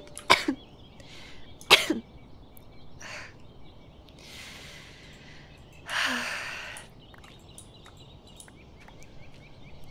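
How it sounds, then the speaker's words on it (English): Person coughing: two sharp, close coughs near the start, a softer breathy cough, then a longer rough hacking cough later, separated by quiet breathing. "Damn cough hasn't gone away either."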